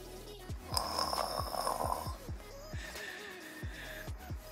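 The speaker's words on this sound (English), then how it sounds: "Snoring" Rhythmic snoring breaths repeat about every half second in a doll pretend-play night routine, each a low rasping pulse, fairly close and steady, with a brief higher whistle-like tone partway through and no talking.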